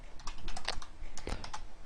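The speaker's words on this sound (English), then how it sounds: "I'm just going to start typing" Fingers type steadily on a computer keyboard, a close run of quick clicking keystrokes with a brief pause midway, no voice heard.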